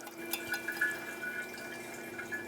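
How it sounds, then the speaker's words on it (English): Brake fluid trickles from the front caliper bleeder screw of a 2014-2019 Toyota Highlander, making faint, irregular little drips close by in an otherwise quiet space. "Looks like we do have a steady trickle of fluid going on here"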